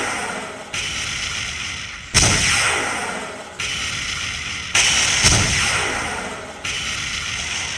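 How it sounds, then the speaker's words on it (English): Rocket launcher fire in a video game about tearing down an office building: heavy booming blasts, each with a sharp attack and a long rumbling tail, repeating roughly every one and a half seconds over about eight seconds, loud and with no talk. "Rocket launcher."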